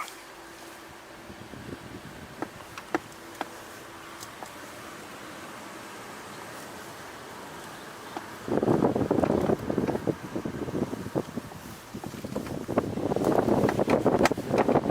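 Steady outdoor wind hiss that swells into stronger gusts rumbling across the microphone in the second half, with a few faint clicks and no voices.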